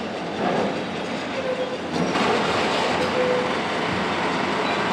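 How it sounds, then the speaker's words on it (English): A dense, continuous roar of factory machinery in North Korea, with rumbling and faint metallic clanking and clanging, loud and unbroken, no voices. "This noise is just overpowering. You've got the clanking and clanging"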